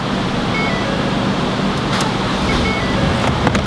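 A 2017 Ford F-150 with the 3.5L EcoBoost engine running just after startup, a steady broadband engine whir and hum heard close and constant, with a few faint ticks near the end.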